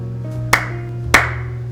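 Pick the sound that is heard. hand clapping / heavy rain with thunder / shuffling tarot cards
hand clapping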